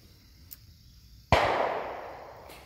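A single sharp gunshot from people shooting cracks at mid-distance, and its echo decays slowly across the outdoor space after a quiet lead-in.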